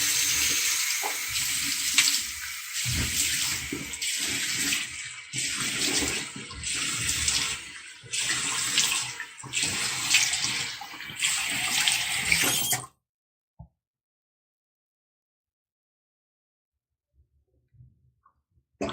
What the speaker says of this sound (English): So I use some lukewarm water to get the baking soda off